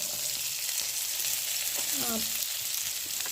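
Onion, ginger, garlic, curry leaves and green chilli sautéing in oil for Kerala-style prawn roast, a continuous bright sizzle with a few faint stirring knocks, close and steady, with a brief murmur of talk in the middle.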